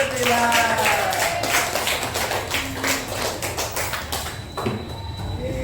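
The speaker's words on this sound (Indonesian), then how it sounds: "Oke, beri tepuk tangan." Schoolchildren in a classroom clap their hands in a loose burst of taps that thins out toward the end, with voices murmuring and talking underneath.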